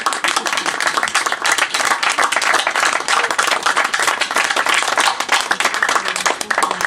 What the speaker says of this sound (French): Je vous applaudis aussi parce que c'est collaboratif